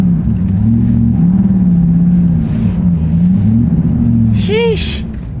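A Mitsubishi Evo 8 drives on snow-covered road, its engine giving a steady loud droning rumble close by with rising and falling pitch throughout, and a brief whining sweep near the end; a person talks over it.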